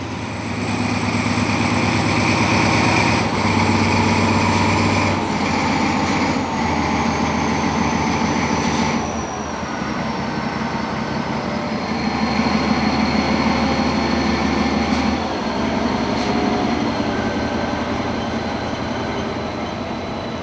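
An Austrian railways class 2143 diesel locomotive, first built in 1964, rumbles steadily nearby for about twenty seconds, its engine drone rising and falling with a faint high whine above, no talk.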